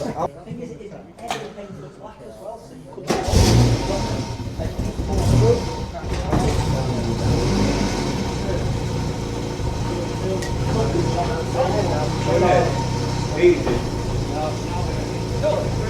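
A Reliant car engine with an exhaust fault, pulled by its engine mounts, runs with a steady low rumble after a quiet start, close by, while people talk over it.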